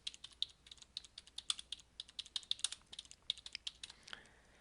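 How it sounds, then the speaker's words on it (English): Rapid keystrokes on a computer keyboard as a search term is entered, a steady run of light clicks close to the mic with no voices, ending in a brief mouse click. "You would simply enter that term in the search box"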